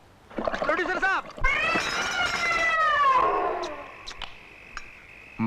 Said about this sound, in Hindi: इस बिल्ली को खाने की टेबल से दूर रखा करो